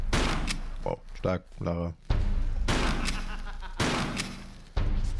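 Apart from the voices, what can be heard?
shotgun fire in video game Tomb Raider 3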